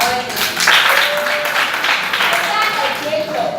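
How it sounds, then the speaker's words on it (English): An audience clapping hands together in a hall at a science slam, a dense rolling applause that carries on steadily, with a voice talking over it. "Alright, let's clap our hands."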